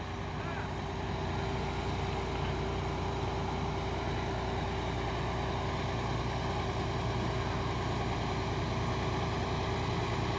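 A heavy Fuso Super Great truck engine drones steadily nearby, a constant low rumble with no pauses throughout.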